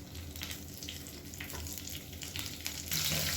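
Curry leaves drop into hot oil with a crackling sizzle, brief spattering pops over a steady frying hiss that swells louder in the last moments, close by.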